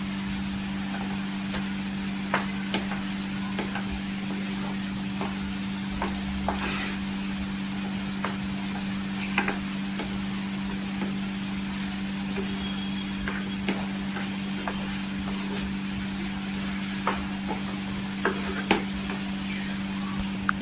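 Mango pulp being stirred into semolina sheera in a pan, a steady soft sizzle with scattered spoon scrapes and taps against the pan, under a constant low hum, no talk.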